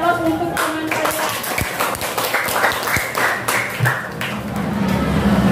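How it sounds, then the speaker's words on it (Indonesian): Classroom applause for a classmate: a steady wash of many hands clapping together, close and moderately loud, with a few sharper taps and some speech-like murmur mixed in throughout. "beri aplaus untuk teman kalian"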